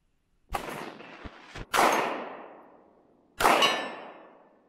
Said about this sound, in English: shooting a few targets from skis